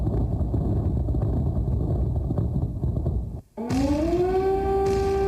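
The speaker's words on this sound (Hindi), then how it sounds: "अलर्ट के लिए लगातार बज रहा है सायरन" An air raid siren in Kyiv, Ukraine, during a Russian air attack winds up after a brief drop-out, its rising wail climbing to a sustained tone over steady rumbling background noise.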